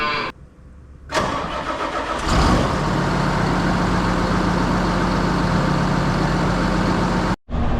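A farm tractor's engine cranks and catches in freezing -20°F weather, then settles into a loud, steady, close-up running drone with a low hum, cutting off briefly near the end.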